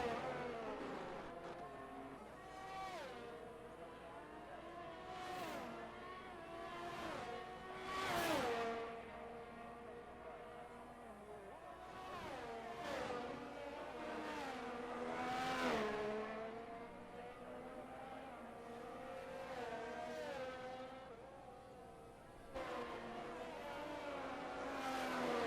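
Formula 1 race cars at Bahrain in the F1 22 video game scream past, engines rising and falling in repeated high-revving sweeps over a long stretch, several cars in turn.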